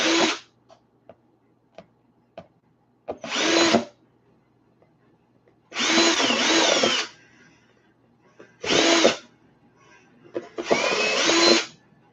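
A power drill whines in five loud bursts of a second or two each while drilling holes, back-drilling from the reverse side, separated by quiet pauses with faint clicks and taps.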